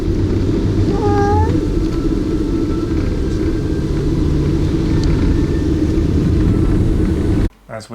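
A cat in a carrier box yowls and mews in a few short rising cries over a constant car rumble, with road noise filling the background and a brief quieter moment at the end.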